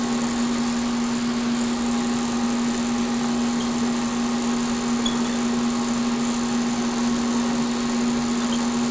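A homemade cutter grinder hums steadily at its lowest speed, a constant close motor drone with a strong low tone and slight buzz, unchanging throughout with no talking.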